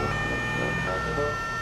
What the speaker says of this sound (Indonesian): Wow, ada mobil ambulan.